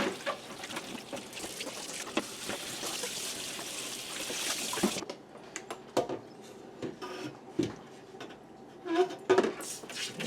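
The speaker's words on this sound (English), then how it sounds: "You just want to make sure it is rinsed thoroughly." Water trickles and pours while rinsing the condenser coil of a 1982 GE refrigerator, a steady splashing wash for about five seconds, then sparse drips and small knocks of parts being handled nearby.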